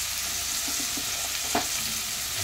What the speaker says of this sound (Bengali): আলু আর বেগুন একসাথেই আমি ভাজতে থাকবো।